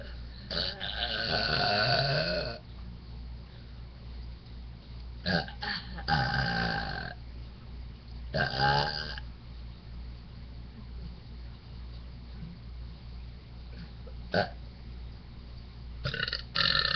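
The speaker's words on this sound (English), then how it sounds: "I'm going to try to drink as much of this as I can, and then burp as loud as I can" A woman burps loudly several times after drinking, with long, drawn-out belches at the start and a few shorter ones spaced through the middle and end, each standing alone against quiet background.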